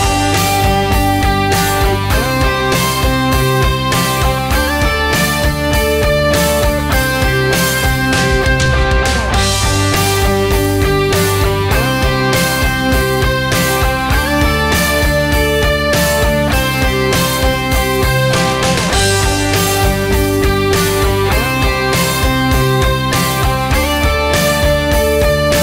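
An electric guitar picks out root notes on each chord change over a full rock backing track, the sustained notes shifting in steady, regular steps amid dense, loud band accompaniment.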